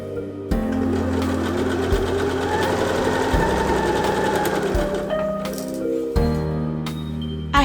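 A sewing machine stitches square cosplay fabric pieces together in fast, close, rattling runs, pausing briefly between seams before starting again.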